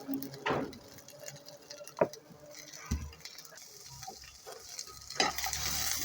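Ingredients for a Bengali bhorta cook in a little oil, a faint sizzle broken by a few clinks and scrapes of a spatula against the pan.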